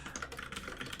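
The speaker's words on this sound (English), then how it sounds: "I was just typing out this curl command." Fast typing of a terminal command on a computer keyboard, a dense, uneven run of close, sharp keystrokes with no voices.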